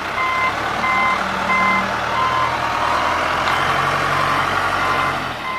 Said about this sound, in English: And it does have backup alarm.